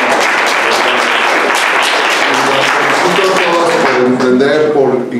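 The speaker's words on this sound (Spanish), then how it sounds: "son ellas las que merecen el aplauso" Loud, sustained applause fills the room at a graduation celebration for women entrepreneurs, steady dense clapping from a crowd that fades as a voice begins speaking near the end.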